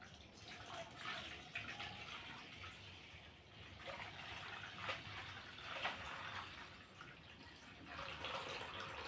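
Water is strained off and poured away by hand in a home kitchen. A continuous splashing, gushing flow rises and falls in strength for several seconds, with no voices over it.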